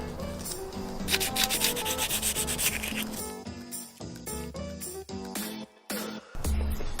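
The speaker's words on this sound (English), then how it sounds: "I'm going to take a little, you know, fine sandpaper and just go over it once more" An RB25 engine's oil pump gasket surface on an S13 drift build being hand-sanded with fine sandpaper, making close, continuous rhythmic rubbing and scraping strokes that break off briefly near the end.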